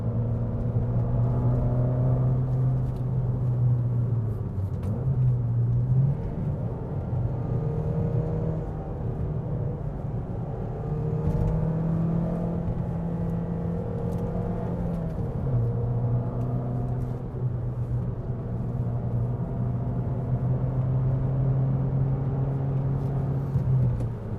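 Fiat 500 Abarth on new Federal SS595 tires driving through a corner, heard from inside as a steady low engine drone and road rumble with shifts in engine pitch, loud and continuous, no talking.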